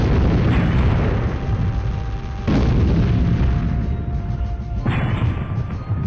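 Apocalypse cannon in the Storm Winds strategy game fires and detonates in heavy, booming blasts, with three loud explosive onsets spaced a couple of seconds apart over a sustained rumbling roar, no voices.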